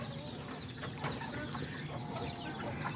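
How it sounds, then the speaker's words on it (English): Small short-legged hens, Serama and Azteca chickens in a backyard coop, cluck in a soft, steady chatter with a few sharper clucks and scratchy knocks mixed in, fairly quiet and close by. "this is all the little short-legged hens"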